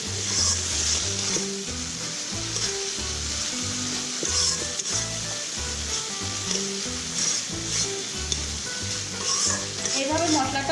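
Spice paste for a rohu fish, potato and pointed gourd curry sizzles and fries in a pan while being stirred in a steady rhythm, with soft scrapes over the constant crackle, close and moderately loud.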